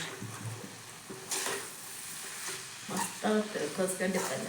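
Soft sizzling and scraping as onion, tomato, chilli powder, turmeric, masala, cumin and mustard seeds are stirred in hot oil, with spatula strokes growing busier toward the end.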